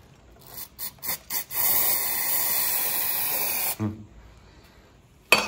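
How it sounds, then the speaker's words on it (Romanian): Cleaner spray hisses in one sustained burst of about two seconds onto the dirty engine bay of a BMW E46 track car. A few short clicks and rattles come before it and a knock follows, with no talking. "Se ia numai când dai cu spray-ul."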